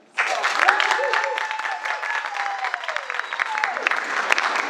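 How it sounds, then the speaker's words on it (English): A film-event audience breaks into sustained applause, steady clapping filling the room from start to finish, with some voices underneath. "And a big round of applause for Farah."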